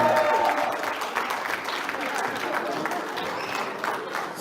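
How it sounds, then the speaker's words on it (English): Applause from guests at a 25th wedding anniversary celebration, a dense steady wash of clapping filling the room for several seconds at fairly loud level. "So big applause for him."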